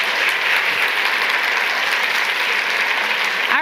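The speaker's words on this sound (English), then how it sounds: "Let's give them a round of applause." Loud, steady applause from a large audience at a live NWiR Day 2024 event, continuous dense clapping filling the space without any speech.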